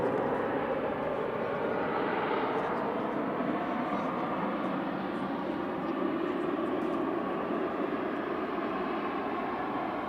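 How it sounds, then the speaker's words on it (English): An easyJet Airbus A320 Classic on approach to land at Manchester Airport gives a steady, broad jet engine roar that holds constant throughout at moderate distance. "EasyJet flight 2118 from Paris Charles de Gaulle, GEZ UT and A320 Classics coming down."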